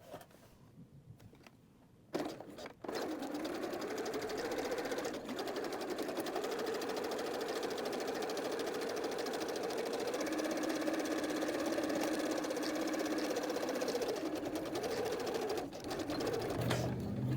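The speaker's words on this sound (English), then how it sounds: "So we have to sew this from the outside of the garment." Starting after a quiet moment, a sewing machine fitted with a twin needle runs a long steady stretch, hemming knit fabric from the outside of the garment with a close, even mechanical whir that briefly slows near the end.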